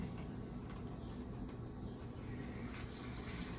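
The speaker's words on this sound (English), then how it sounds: "I'm going to turn the faucet on." A faucet runs a steady, continuous stream of water for hand washing, a low, even hiss and rush with no talking.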